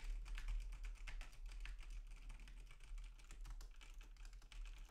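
Steady rapid typing on a computer keyboard, a continuous patter of key clicks over a low hum, fairly quiet and distant.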